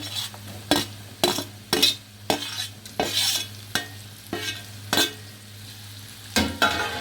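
Hot peppers and mixed colored peppers fry in a pan for a ful dish, with a steady sizzle broken by regular scraping stirs about every half second, close and fairly loud, with no talking.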